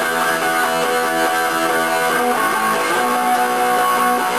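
Acoustic guitar strummed steadily in the pattern of a song, with even, continuous chords ringing throughout at a moderate, close level.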